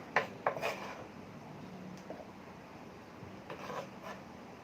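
Soft, quiet knife strokes tap and scrape against a cutting board in short bursts, close by, with a faint background hiss.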